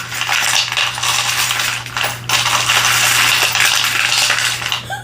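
Metal charms jingling and clattering in a bowl, a dense, bright and loud rattle that runs almost nonstop, close up, with a short lull about halfway through.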